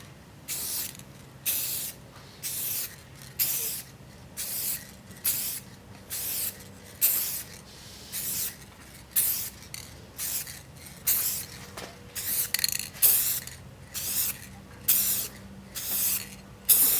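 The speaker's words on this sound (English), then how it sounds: "Now it's time to use the clear coat." Clear coat sprayed from an aerosol can onto a car headlight in a series of short, evenly spaced hissing bursts, each lasting about a second, close and fairly loud, with no voices.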